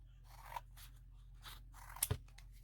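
Scissors cut through a recycled craft container being made into storage for metal dies, giving several soft crunching snips with a sharper louder cut near the end, close and quiet with no talking.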